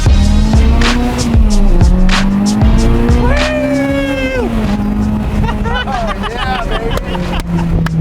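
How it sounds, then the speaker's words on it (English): A Honda Civic's engine and exhaust drone steadily up close as the car drives, the pitch rising and easing slightly, with voices talking over the rumble. "The exhaust sounds good. The exhaust sounds great."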